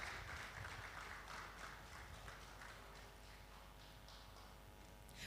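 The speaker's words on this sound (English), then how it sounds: "Please let's keep clapping until he gets to the stage." Audience applause at a tech expo welcoming a speaker to the stage, steady dense clapping from a distant crowd that holds evenly and rather faintly throughout.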